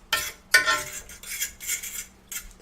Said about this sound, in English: Mix it and pull it off the heat.